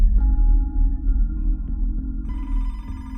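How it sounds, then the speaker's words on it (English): A telephone ringing at a detective's desk, used as a sound effect: a steady electronic ring with regular pulses that brightens and grows fuller partway through. It is fairly loud and heard alone, with no talk. "Detective Gamber got a phone call at his desk"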